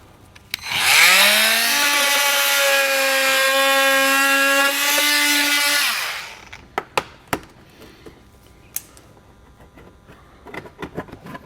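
A power cutting tool trims the plastic front fascia of a 2022 Chevrolet Colorado, a loud steady high whine for about five seconds, followed by scattered clicks and light handling noises.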